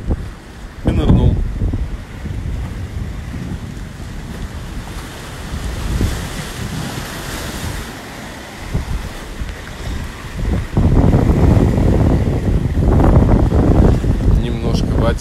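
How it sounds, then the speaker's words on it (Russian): Ocean surf washes onto a rocky shore in loud, rolling surges over blustery wind noise on the microphone, with a voice talking over parts of it. "Немножко водички вам океанской."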